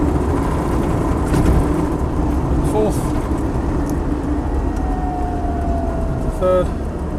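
A Land Rover 90 V8 station wagon drives along with a continuous loud engine drone and road noise inside the cabin. The pitch shifts briefly during a gear change, and someone talks over it at times.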